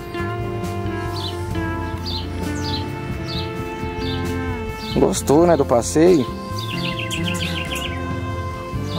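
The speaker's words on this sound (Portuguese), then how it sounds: "Os passarinhos encantando." Birds chirp in repeated short high calls during an outdoor walk with a husky on a leash, moderately loud behind steady talking.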